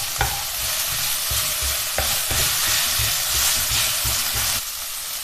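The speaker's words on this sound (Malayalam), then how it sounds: "ഇതെല്ലാം ചേർത്ത് നന്നായിട്ടൊന്ന് വഴറ്റിയെടുക്കാം" Tomatoes and spices sauté in a pan with a loud, continuous sizzle, a few sharp spoon taps against the pan, and the frying easing slightly near the end; no voices.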